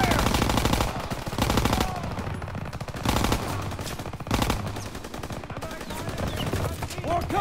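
Dense machine gun and rifle fire in a Call of Duty WW2 campaign battle, loud, continuous bursts with sharp repeated shots filling the whole stretch.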